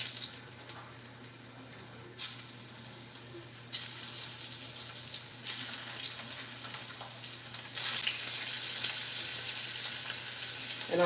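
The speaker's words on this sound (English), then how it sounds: "So I have some shrimps that I'm gonna put in the pan." Butterflied shrimp sizzle in a pan, a steady hiss that swells louder in bursts, close by, with some running-water-like wash in the background and no talk.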